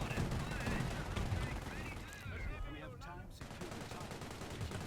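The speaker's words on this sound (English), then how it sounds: "they've got a heavy machine gun" Heavy machine gun fire in the World War II strategy game Company of Heroes, a dense continuous rattle of battle noise running the whole time with a voice talking over it.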